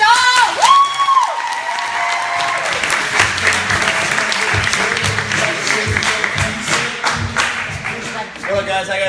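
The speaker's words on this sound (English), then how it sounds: "So clap it up for Joe!" A crowd at a fitness club wellness workshop claps and cheers for the club's founder, with a whooping voice at the start and dense applause that carries on steadily for about nine seconds.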